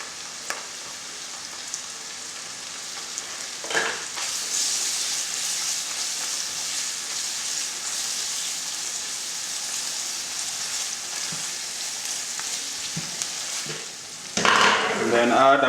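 Tomato puree hits a hot stew pot for a bean stew, setting off a soft, steady sizzle and hiss that runs unbroken, with a brief clatter near the end.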